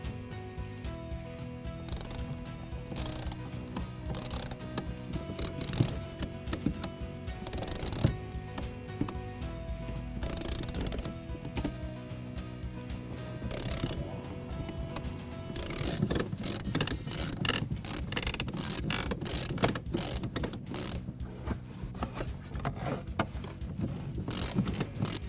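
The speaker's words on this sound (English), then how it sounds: "Attach the ratchet." A ratchet from a BGS windshield removal wire tool set, turned while a car windshield is cut out, gives a steady run of dense mechanical clicks and grinding ticks up close, with no talking.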